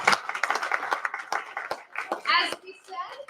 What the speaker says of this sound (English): let's give all of our panelists a round of applause